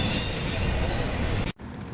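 A train rolls past a small-town cafe barely twenty feet away, a loud continuous rumble of rail cars with a high wheel squeal, then the recording abruptly drops to quiet room tone.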